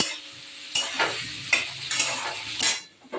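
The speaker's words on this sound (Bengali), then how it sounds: "পেঁয়াজটা একটু ভাজা হয়েছে" Onions frying in ghee in a pan, a close sizzle broken by several scraping stirs of a spoon against the pan.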